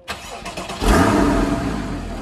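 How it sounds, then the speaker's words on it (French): A Porsche Cayman 981 starting up: starter clicks and cranking, then the engine catches with a loud flare and settles into a steady, close rumble. "On va commencer par le Cayman. Démarrage à gauche, tu tournes une première fois"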